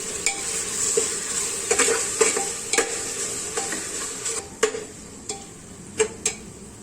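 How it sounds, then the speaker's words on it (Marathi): Ground masala spice paste being stirred in a pan with tomatoes, a spoon scraping and clicking against the metal at irregular intervals over a soft background sizzle. "हा वाटलेला मसाला मिक्स करून घेते"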